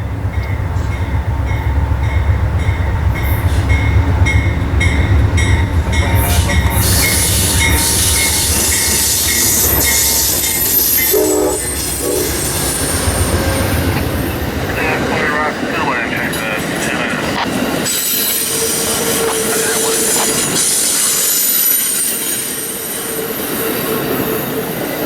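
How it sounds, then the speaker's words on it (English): Amtrak P029 passenger train with a coach baggage car and coaches rolls past at Point of Rocks, loud and close, with a long horn blast, wheel squeal and rumbling cars over an extended pass. "as Amtrak PO29 takes the medium clear here at Pointed Rocks"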